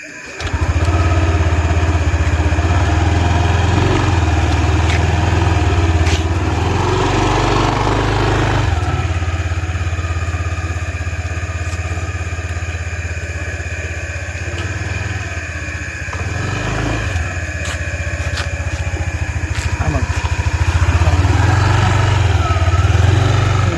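A motorcycle engine runs continuously with a low, steady rumble, close and loud, shifting slightly in pitch as it revs and settles.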